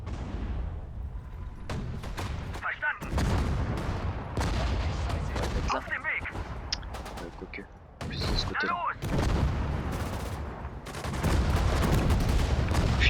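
Cannon and gunfire in the Sudden Strike 4 WWII strategy game, Battle of France: repeated sharp bursts and booms layered over a constant rumbling battle bed, with talk at times.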